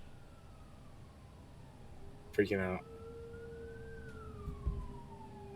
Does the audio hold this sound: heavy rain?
no